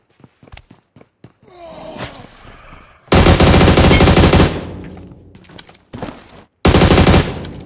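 Gunfire in the game PUBG Mobile on the Livik map: sharp scattered shots, then long loud bursts of rapid automatic fire, pausing and resuming, with footsteps and rustling between volleys.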